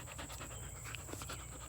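A white dog pants steadily and fairly close in a vegetable garden, a fast continuous breathy rhythm with no talking over it.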